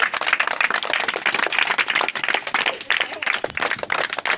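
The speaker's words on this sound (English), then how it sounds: "Okay, claps." Dense, steady clapping from a group, with rapid overlapping claps that run without a break for several seconds at close range.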